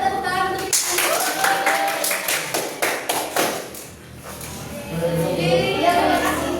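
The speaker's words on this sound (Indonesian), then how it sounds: "Boleh tepuk tangan untuk" Fourth-grade children in a classroom clap their hands in a burst of sharp, uneven claps that thins out partway through and picks up again near the end, with children's voices and chatter mixed in.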